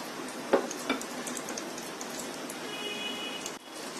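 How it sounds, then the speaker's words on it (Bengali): Chicken lollipops frying in a pan on low heat and being stirred, giving a steady soft crackle and sizzle with a couple of light utensil taps near the start. "এখন একটু নেড়ে চেড়ে দিচ্ছি"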